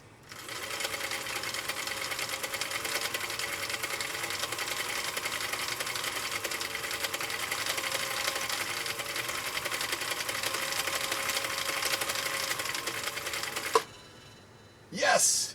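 A Husqvarna Viking CI 21A sewing machine runs a cam stitch in a steady, rapid mechanical chatter for most of the clip, then stops abruptly, leaving a quiet gap before a voice near the end.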